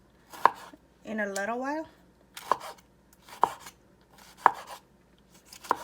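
Tomatoes being chopped with a knife on a board, a handful of sharp, spaced thuds close by, with a brief spoken phrase between the cuts.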